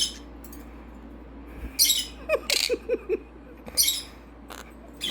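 A pet Quaker parrot gives short, sharp squawks and chirps in a few quick bursts close to the microphone in a quiet indoor room.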